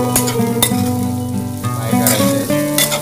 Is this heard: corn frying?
yes